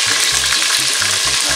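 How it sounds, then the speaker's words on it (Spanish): Small onions going into a pot of boiling water for beer-braised chicken, with a steady bubbling sizzle and soft, rhythmic low thumps running throughout, loud and close with no talking. "así que vamos a echarle la cebolla"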